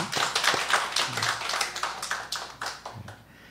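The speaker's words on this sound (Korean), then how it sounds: "뜨거운 박수로 환영하겠습니다" Clapping from a church congregation welcoming two newcomers, a scattered burst of hand claps with a faint voice or two underneath, tapering off toward the end.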